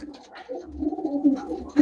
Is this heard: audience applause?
no